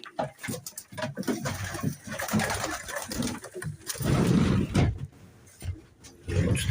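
Pigeons coo near the microphone on a cold, windy Sunday, with repeated low, throaty calls over gusty rustling and handling noise.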